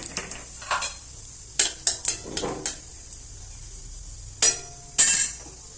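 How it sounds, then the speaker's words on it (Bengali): Bay leaves and dried red chillies being tempered in hot oil in a pan in a large kitchen, for chickpea ghugni with chicken mince. Scattered clinks and scrapes of a utensil against the pan come over a faint sizzle, with no talking. "তেজপাতা, শুকনো লঙ্কা ফোড়নে দিয়ে দিলাম"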